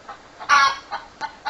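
Hen Emma sounds an alarm, a loud squawking burst followed by a few short, sharp clucks, close by and alone.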